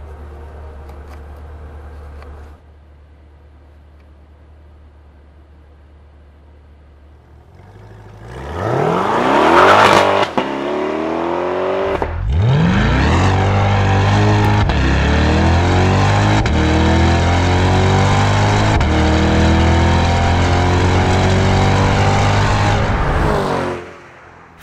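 A 2022 Chevrolet C8 Corvette Convertible idles quietly, then its engine snarls as it launches hard, revs climbing through several upshifts in a loud, sustained roar that cuts off at the end.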